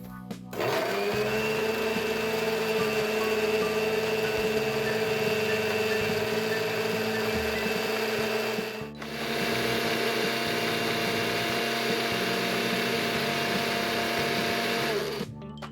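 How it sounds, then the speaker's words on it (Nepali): A kitchen blender whirs through tomato, garlic, ginger and mint chutney, a loud, steady motor whine that cuts out briefly midway and then resumes for a second long run before stopping. "मजाले ब्लेन्ड गरौँ यसलाई।"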